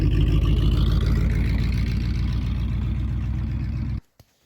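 A 1978 Ford 4x4 truck drives down the road with a loud, steady engine drone and rumble for four seconds. The sound then cuts off abruptly, followed by a single faint click.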